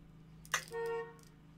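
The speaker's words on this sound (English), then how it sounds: "As car horn honks." A single short car horn honk, fairly distant, preceded by a brief clatter, with a low engine-like hum underneath.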